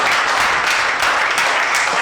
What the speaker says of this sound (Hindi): तालियों से बताइए सारे लोग।